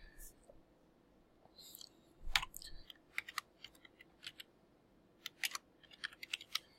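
Fingers tap out a variable name on the input panel of an ABB IRC5 robot controller, giving a scattered run of light, quick clicks that grow busier toward the end over a quiet background.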